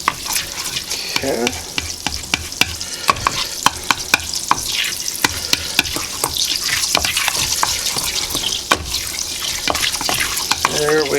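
Butter melts and sizzles in a pan over medium heat, with a steady frying crackle broken by frequent sharp clicks and scrapes of a utensil; a voice speaks briefly.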